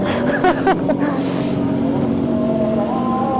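A Ducati motorcycle engine idles and burbles nearby, with a couple of quick throttle blips early on, then settles into a steady rumble.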